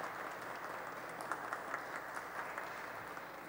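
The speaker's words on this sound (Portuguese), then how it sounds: "salva de palmas nossa" Applause in a Brazilian city council plenary session, a soft, distant patter of many hands clapping in a large chamber, steady and fairly faint throughout.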